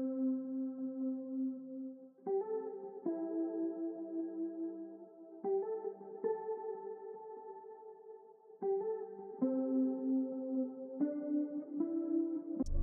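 Guitar melody processed through an arpeggio delay preset in Guitar Rig, with chorus shimmer, for an ambient R&B beat; sustained, layered tones step through repeating patterns with trailing echoes, steady and alone with no voices.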